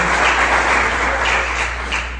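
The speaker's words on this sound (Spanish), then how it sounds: "denle un buen aplauso al Señor" A church congregation applauds during a Sunday service, steady dense clapping from many hands throughout, fairly loud and close, with a low hum underneath and no talking.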